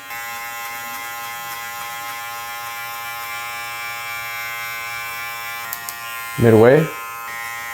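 Electric hair clippers hum steadily and closely while cutting a mid fade with a number two guard, a continuous buzzing drone through the whole stretch, with a brief spoken word near the end.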